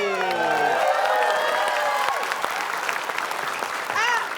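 Studio audience applause on an Indonesian TV game show, loud and dense clapping mixed with cheers and a few whoops, heard alone without talk.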